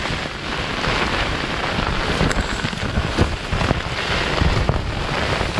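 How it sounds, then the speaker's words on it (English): Hail and snow pelt a Hilleberg Soulo tent in blasting wind in the icy Lake District, making a loud, dense, continuous patter with gusty roaring surges and no talking. "it's hailing and snowing quite bad now"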